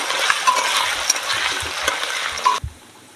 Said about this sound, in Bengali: আদাটা এবার সুন্দর করে ভেজে নেব।